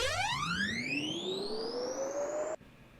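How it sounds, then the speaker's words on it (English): A bright, tonal comb-filtered sweep rises smoothly in pitch over a few seconds, with evenly spaced harmonics, then cuts off suddenly, leaving faint noise. "what you get when you sweep that comb filter up"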